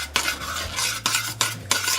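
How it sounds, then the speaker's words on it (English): Spoon stirring a boiling vegan fried egg mixture in a pot, with about four quick scraping strokes against the metal, close and loud with no talk. "So the mixture is boiling, and you're just going to give it a stir."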